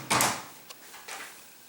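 Motel room drawers slide and bump, one sharp scraping pull at the start followed by a small knock and a softer second slide, close and fairly loud with no talking.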